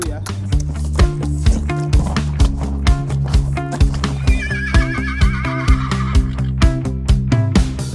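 A horse being ridden lets out a wavering whinny over steady rhythmic hoof clops and music, with people talking.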